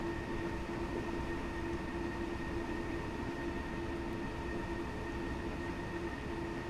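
A DB BR426 electric commuter train in Train Simulator 2016 runs between Munich and Garmisch with a steady, fairly quiet rumble and a constant motor hum, without any voices.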